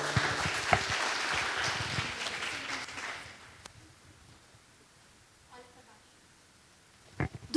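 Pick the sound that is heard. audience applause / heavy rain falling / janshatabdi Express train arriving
audience applause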